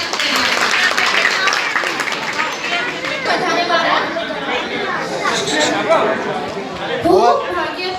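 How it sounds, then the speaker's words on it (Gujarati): A crowd applauds to welcome a woman giving a spiritual talk on Sanatan Dharma, with steady mixed clapping and loud audience chatter throughout, swelling briefly near the end. "તાળીઓ સાથે સ્વાગત કરીએ."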